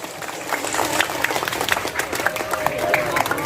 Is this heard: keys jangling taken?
no